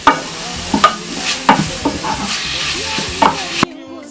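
Meat cooks in a pot with a steady sizzle while a utensil stirs and scrapes against it in several distinct knocks, close and fairly loud, before stopping abruptly.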